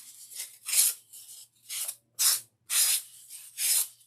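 Fine-grit sandpaper rubbed around the edges of a handmade faux macaroon craft ornament, giving about six or seven close, loud, hissing rasps in an uneven back-and-forth rhythm with short pauses between strokes.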